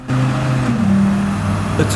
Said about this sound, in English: this car is powered by a 2-liter, 5-cylinder, twin turbocharged engine, which just sounds really good